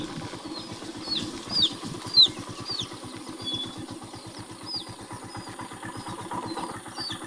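A motorcycle engine idles and putters steadily nearby, its low rhythmic pulsing continuous, with faint high chirps above it.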